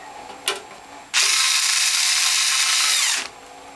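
A power driver runs 8-32 screws into sheet metal bottom plate brackets on a Norwalk juicer, with a short click followed by a loud, steady whir lasting about two seconds up close.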